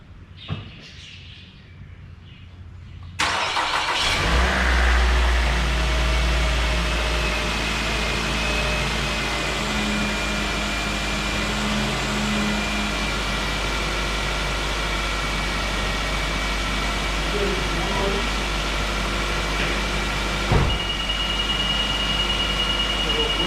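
A Nissan Altima 2.5 S engine push-starts and settles into a steady, loud idle after a few quiet seconds, with faint bird chirps in the background.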